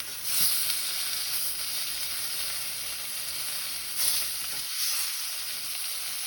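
Trout fillet pan-searing in hot oil, giving a steady close sizzle and hiss throughout with a few brief louder spits and crackles.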